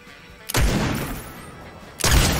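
Turret fire in Fortnite: two heavy, booming blasts roughly a second and a half apart, each followed by a loud, rumbling sustain.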